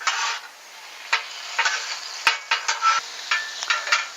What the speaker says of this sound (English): now is the time I add my soy sauce